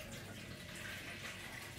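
Water pouring steadily into a steamer while making sweet mochi, a continuous close rushing trickle with no voices.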